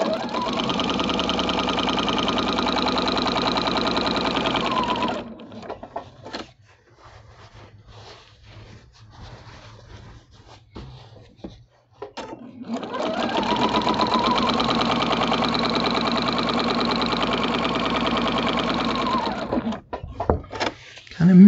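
A sewing machine stitches a patchwork quilt of potato chip blocks in steady, loud motor runs, pausing for several seconds in the middle with soft handling noises before running again.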